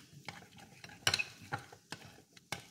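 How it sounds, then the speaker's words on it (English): Organic ketchup is stirred into a vegan sloppy joe mixture of meat substitute in a pan, with several sharp spoon scrapes and clinks against the pan over a soft sizzle, close up and without talk. "I'm going to put this ketchup in there. This is organic. We're going to stir that up."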